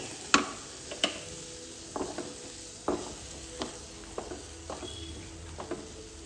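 A spoon stirring paneer curry with tomato paste in a pan: sparse, soft clicks and scrapes about once a second over a steady low hiss. The sound is fairly close and quiet.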